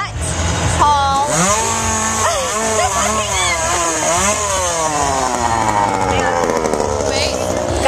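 A chainsaw revs at a haunted attraction, its engine rising and falling in repeated surges over loud crowd noise and people talking nearby.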